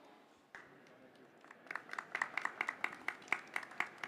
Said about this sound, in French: Merci d'applaudir nos intervenantes